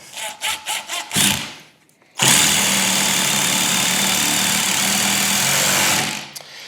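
A Ryobi cordless power tool is blipped in a few short bursts, then runs at full speed in a loud, steady high whine for about four seconds before winding down, with no voices.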